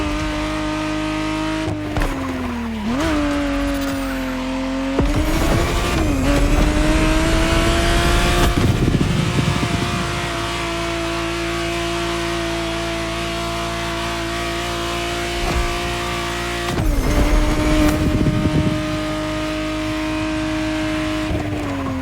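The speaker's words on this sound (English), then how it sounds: "the exact model Motorfest has put in your hands is the 1991 re-engineered version of the Testarossa, introduced as the 512" A 1991 Ferrari Testarossa 512 roars steadily in The Crew Motorfest, its flat engine note holding a sustained drone with a few rising revs and shifts, loud and close with no talk.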